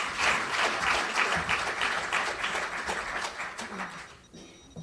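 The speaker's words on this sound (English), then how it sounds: "So let's give a big round of applause to Chuck" An audience gives sustained applause after a labor-movement guest is introduced at a speaking event. The dense clapping stays steady and fairly loud, then tapers off near the end.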